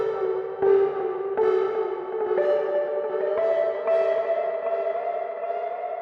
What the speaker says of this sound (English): each track gets its own delay effect with more options than you see